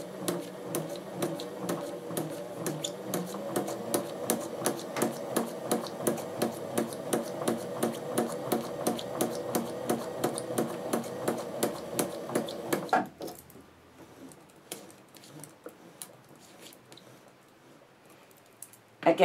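Sewing machine stitching along drawn lines on paper, a steady rapid mechanical clatter of even stitch pulses for about thirteen seconds, close and clear, then stopping to quiet handling noises.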